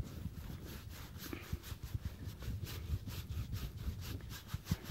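Finish rubbed into wood by hand, heard as a soft, steady rhythmic rubbing and brushing, close but quiet, with no talk.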